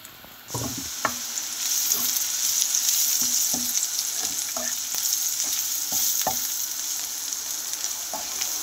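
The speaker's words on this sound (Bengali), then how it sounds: "মশলাটা তেলের মধ্যে ভেজে নিলে দারুণ একটা ফ্লেভার আসবে" Ground spices sizzling in hot oil with prawns in a pan, a loud steady frying hiss starting after a half-second pause, with repeated spatula taps and scrapes throughout.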